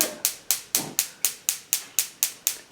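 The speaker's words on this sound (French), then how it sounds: "Vous allumez ensuite le gaz." A gas stove igniter: a rapid series of sharp clicks repeats evenly, about four per second, each with a short airy tail.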